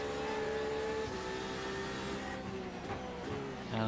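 A race car engine in the iRacing sim during the 24 Hours of Daytona drones at steady high revs, shifting pitch slightly as it runs close and continuous without speech.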